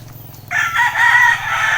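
A rooster on a chicken farm lets out a single loud, close crow that starts abruptly after a quiet moment and holds for over a second, with a low farm hum underneath.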